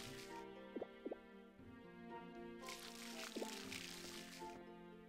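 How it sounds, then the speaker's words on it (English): Watering seeds in the farming game Harvest Moon: Light of Hope gives a few quick splashy drip sounds in bursts over a soft looping game tune. "water the seeds"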